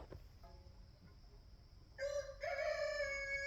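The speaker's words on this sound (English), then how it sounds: "If the rooster would shut up." A rooster crows loudly and close by, two long harmonic calls starting midway through, after a quiet stretch of low background rumble.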